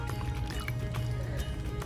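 A dog laps at a running public water fountain spout in Bonifacio, Corsica, on a summer day, with a continuous close trickle and splash of flowing water throughout the short moment.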